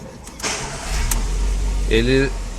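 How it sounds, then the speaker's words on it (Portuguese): A Volkswagen Fox Highline 1.6 I-Motion from 2014 starts up: a brief starter whir, then the engine catches and settles into a steady low hum, recorded close by. "E aqui agora eu vou dar partida no carro."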